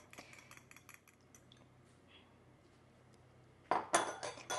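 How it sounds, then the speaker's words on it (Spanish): A fork or utensil beats an egg in a bowl for buñuelos de maíz: first light quick clicks, then a quiet pause, then a burst of loud, rapid close clinking at the end. No one talks. "yo lo quiero pinchar y batir un poco porque así se va a integrar mejor"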